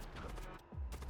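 A missile strikes in the space combat game Void War, producing a muffled, rumbling burst of impact noise that swells low and heavy partway through the short moment.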